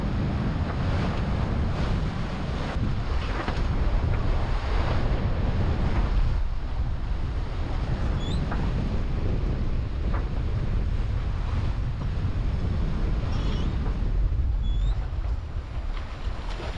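Steady wind roar and choppy sea waves slapping against a reefed sailing yacht, loud and continuous throughout with gusty buffeting on the microphone.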